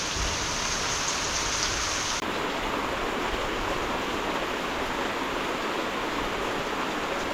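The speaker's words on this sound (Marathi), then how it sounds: "एप्रिलमध्ये असा पाऊस पडतो आहे" Heavy unseasonal April rain pours down on a Konkan village, a dense, steady roar of water on surfaces that stays loud and unbroken throughout.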